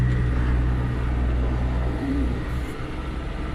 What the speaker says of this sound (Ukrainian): Важкенько йде трактор, ну, глибина трошки є, гарантованих 15-18.